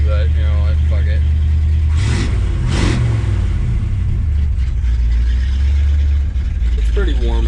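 A 1965 Chevy C10 truck engine revs hard to high RPM, a loud, continuous mid-range roar that swells and holds near the microphone, with someone talking over it at the start and end.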